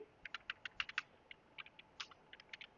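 Quick, light keystrokes on a computer keyboard, an irregular burst of soft clicks close by, faint and with no talking.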